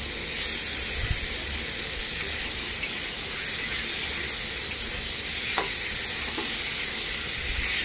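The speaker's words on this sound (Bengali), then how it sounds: "আমি ভালো করে নাড়াচাড়া করে ভাজছি" Spice paste fries in a pan for a potato, pointed gourd and egg curry, a steady close sizzle with occasional scraping strokes and small clicks as it is stirred.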